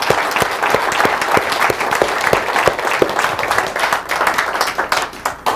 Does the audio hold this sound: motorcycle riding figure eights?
no